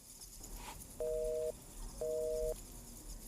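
A mobile phone call fails to connect because the phone is switched off, giving two steady busy-signal beeps about half a second each over faint background hiss.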